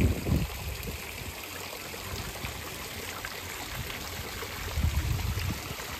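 Running water splashes and trickles steadily in Görlitz, beside a bed of white and yellow tulips, with slightly louder surges near the start and again near the end.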